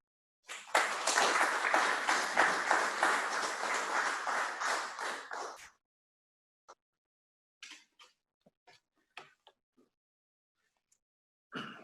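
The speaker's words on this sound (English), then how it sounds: "Let's give all of our speakers another round of applause." An audience at an economic summit in Zephyrhills bursts into loud, steady applause lasting about five seconds, then cuts off abruptly, leaving only a few scattered faint claps and knocks.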